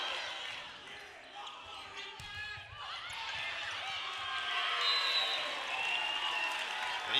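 Spectators cheer at a high school volleyball match between Albany and Eureka, a rising wash of crowd voices and applause that swells toward the end, heard from a moderate distance in a gym.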